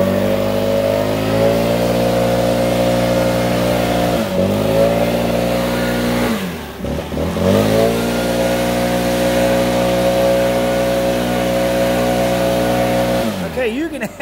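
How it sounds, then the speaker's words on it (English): A STIHL BR800C four-mix backpack leaf blower runs close by with a loud, steady two-stroke drone and whooshing air, dipping and rising as the throttle changes a few times, then revving back up near the end. "Let's do some light blowing."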